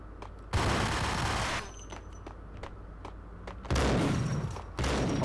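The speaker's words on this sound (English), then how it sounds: "Pump action." Pump-action shotgun fire in the video game Max Payne, two loud blasts with dense booming bursts and a third starting at the end, separated by quieter stretches of mechanical clicks.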